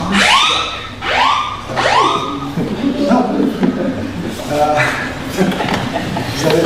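A wailing siren sweeps up and down in three strong rising-falling cycles, then fainter, choppier tones follow, with people talking underneath throughout.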